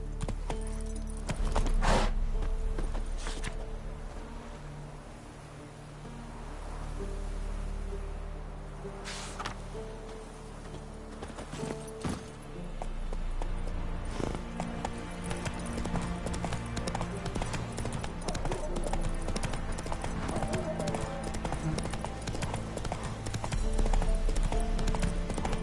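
Roach, a horse in The Witcher 3, gallops with rapid rhythmic hoof clip-clops, close and continuous, over game music and ambience, with a brief word of urging from a rider.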